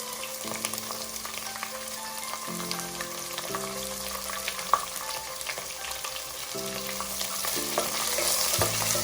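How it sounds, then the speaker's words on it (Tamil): Small and large onions fry in oil in a pan with a constant crackling sizzle, close up, while low steady tones drone beneath in shifting blocks, no one speaking. "நல்லா ஆயில்ல இந்த வெங்காயத்தை ஃப்ரை பண்ணிக்கலாம்"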